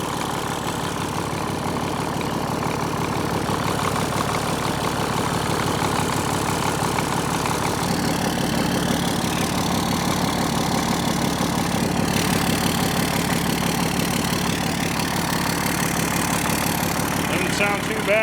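A Caterpillar D6C dozer idles just after a cold start, following a new head, turbo and other major engine work: a steady, rumbling diesel with a fine, regular knock, close and continuous, with a voice talking over it.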